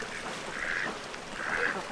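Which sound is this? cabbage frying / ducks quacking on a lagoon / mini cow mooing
ducks quacking on a lagoon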